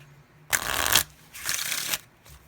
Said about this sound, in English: I'm going to shuffle it up one more time